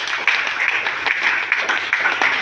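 A church congregation claps for Jesus, fairly close, a dense and continuous patter of many hands lasting the whole moment with no voices.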